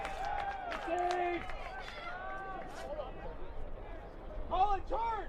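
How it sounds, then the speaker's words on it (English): Spectators cheer at a women's college lacrosse semifinal between SJSU and Saint Mary's, with shrill whistles and rising shouts over a murmuring crowd and nearby talk, swelling into a brief burst of yells near the end. "you may have heard some cheering from the crowd"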